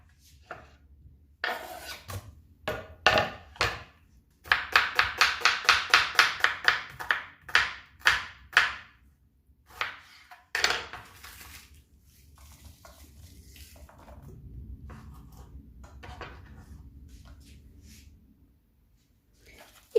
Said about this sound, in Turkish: Hemen soğanlarımı doğruyorum.